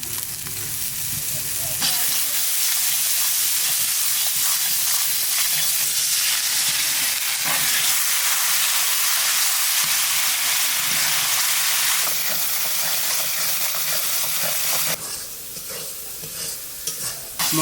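Spices frying and sizzling in hot oil for a duck curry, a steady close hiss with stirring scrapes and occasional bubbling pops, continuous throughout.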